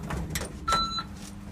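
A ThyssenKrupp elevator door at the Lisburn train station slides along its track in a short, close, moderately loud sweep with a faint tonal hum. The lift is rated 630 kg for eight persons and was built in 2007.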